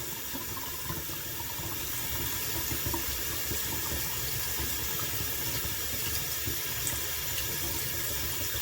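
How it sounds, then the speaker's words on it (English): Hot tap water runs steadily into a sink, a constant close hiss and splash with no talking. "I turn on the hot water."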